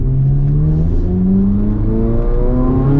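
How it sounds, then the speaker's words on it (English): The engine of a 2024 Chevrolet Corvette Z06 revs and pulls, its rising multi-toned wail loud and continuous from inside the car, with no talking over it. "Just the sound of this engine."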